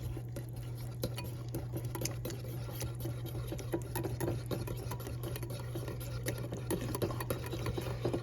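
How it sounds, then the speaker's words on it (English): Butter, grated Parmesan and two eggs whisked in a bowl, a faint, fast, continuous clicking and tapping of the whisk against the bowl that goes on throughout, with no talking. "Whisk."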